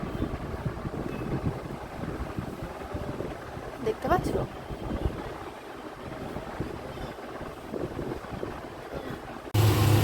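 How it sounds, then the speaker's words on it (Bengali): Strong wind blows outside, rumbling in gusts against the microphone, with someone speaking briefly over the roar. "আর বাইরে ভীষণ হাওয়া দিচ্ছে"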